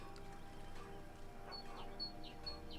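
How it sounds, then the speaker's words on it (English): Birds chirp in a Skyrim forest, a few short, high, faint calls scattered over a quiet ambient bed. "Oh, listen to the birds."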